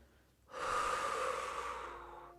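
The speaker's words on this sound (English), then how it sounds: "whenever you're ready to exhale" One long, slow, airy exhale during a breathwork session, close and steady, starting abruptly and fading gently over about two seconds.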